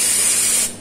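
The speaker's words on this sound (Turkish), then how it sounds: "Şuraya bastığımızda bakın buhar üflüyor." An espresso machine's steam wand blows a loud, close, continuous hiss of steam that holds steady and then tapers off at the end.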